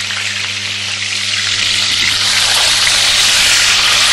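Lamb pieces browning skin-side down in a casserole give a steady, loud, broadband sizzle that holds evenly throughout with no talking, along with a faint low hum.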